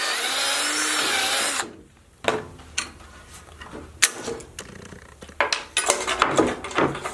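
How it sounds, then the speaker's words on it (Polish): Power drill boring a pilot hole in a camper trailer roof, a loud steady whine for over a second that stops abruptly, followed by scattered clanks, knocks and handling noises of tools and metal. "będę wiercił taką pilot hole"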